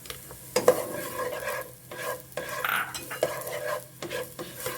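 Onions sizzle in hot oil in a pot, following garlic, for pork rib sinigang, stirred in scraping bursts with clinks of a utensil against the pan; close and moderately loud, with no talking.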